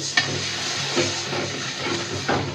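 A spice paste of chili, cumin and turmeric sautés with a little water in a pan for loitta shutki bhuna, giving a steady close sizzle with a few soft stirring scrapes.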